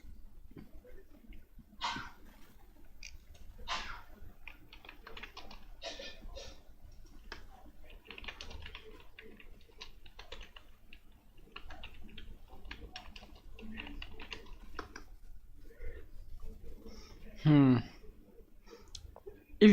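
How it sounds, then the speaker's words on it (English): Typing on a computer keyboard during a livestreamed online chess match commentary, scattered soft key clicks in irregular bursts with quieter pauses, close to the microphone. "If you see me typing there, I'm typing on the spectator chat room"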